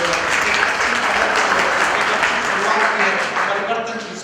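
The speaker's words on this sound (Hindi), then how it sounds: "आपसे तालियां चाहता हूँ" Sustained applause from a large audience, dense and steady clapping throughout, tapering slightly at the very end.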